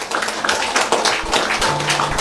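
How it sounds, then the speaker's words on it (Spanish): Applause from a church congregation honoring a member, steady overlapping claps filling the space at an even, moderately loud level with no break. "El hermano Diego Ramón Sebastián, también un aplauso"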